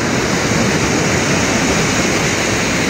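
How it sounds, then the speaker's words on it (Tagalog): Sea waves wash over someone standing on the shore in rainy, rough weather, a loud, continuous rush of churning surf that fills the whole moment with no break. "Inabot na naman ako ng alon."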